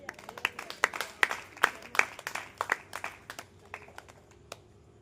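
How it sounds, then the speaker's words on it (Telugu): A small gathering at a Christian sermon claps by hand, sharp but quiet and irregular, then thins to a few scattered claps before fading. "చప్పట్లు కొట్టి చూద్దాం"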